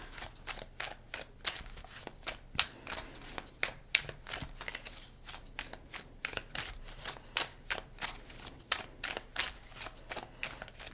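Tarot deck being shuffled by hand before a clarifier card is drawn, soft rapid riffling and card slaps in an irregular rhythm, close and fairly quiet.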